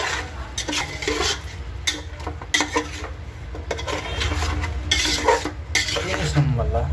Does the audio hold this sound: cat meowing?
no